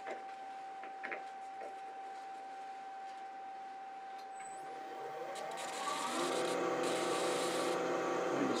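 On a lathe, 240 grit sandpaper rubs a turned wooden shawl ring. A quiet motor hum runs first, then a continuous abrasive rasp swells in about halfway through and holds, close and steady.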